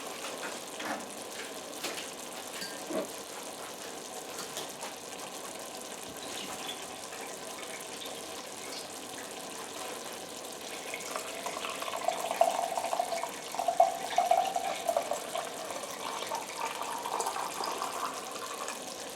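Tap water runs steadily to fill a jug in a home kitchen while an Indian curry cooks, a continuous soft gush that swells louder toward the end, with no voices.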